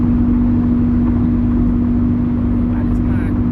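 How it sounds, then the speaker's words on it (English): Car engine drones steadily from inside the cabin while driving, a loud constant low hum with a sustained tonal whine, unchanging throughout and with no voices. "Why does my car sound like that?"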